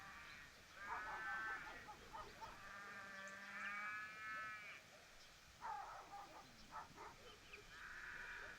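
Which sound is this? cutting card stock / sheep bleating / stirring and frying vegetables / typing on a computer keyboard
sheep bleating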